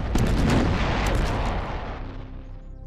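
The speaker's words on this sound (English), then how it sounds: "L3 unleashed a cluster of bombs." A massive rumbling explosion from bombs dropped by the WWI German Zeppelin L3 over the seaside town of Great Yarmouth booms loud and near, then rolls and slowly decays over a few seconds.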